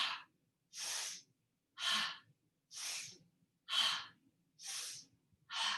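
A person breathes deliberately in a yoga twist, sharp inhales through the nose alternating with exhales through the mouth, seven close, loud breath bursts in a steady rhythm with brief pauses between, no talking.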